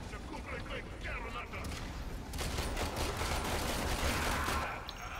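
Warframe gunfire rattles in steady bursts over a busy background, growing louder and denser about halfway through, with a voice speaking at times.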